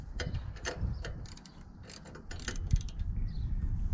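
A ratchet clicks near at hand while tightening a spark plug on a Troy-Bilt XP zero-turn riding lawn mower, giving bursts of sharp metallic ticks with short pauses between them and no voices.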